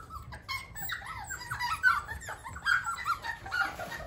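Puppies left behind in a play area whine and whimper in a busy overlapping chorus of high, wavering cries and squeaks, fairly close and persistent throughout.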